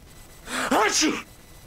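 A character in the video game Alan Wake lets out a single voiced sneeze, a short, sharp burst heard close and alone against a quiet background.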